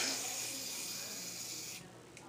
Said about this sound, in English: just spray a little to keep adding some